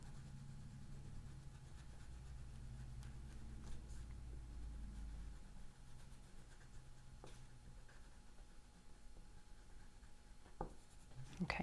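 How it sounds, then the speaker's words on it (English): White oil pastel is pressed hard and shaded onto white paper, giving a steady close scratchy rubbing that runs throughout over a low background hum. "really press down hard when you're shading in your elephant tusk"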